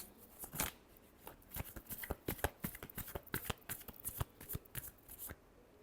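Tarot cards riffle and shuffle in a rapid run of crisp slaps and flutters, close and fairly loud, with no talking over them.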